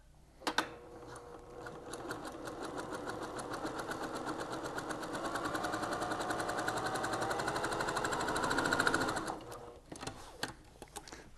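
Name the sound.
sewing machine stitching fabric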